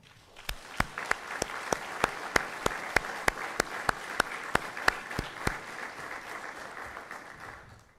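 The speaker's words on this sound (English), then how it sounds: "please give yourselves a well-earned round of applause." Graduation audience applauding at a CBP officer basic training ceremony: a dense, sustained wash of many hands clapping, with sharp rhythmic near claps punctuating it before the applause thins out.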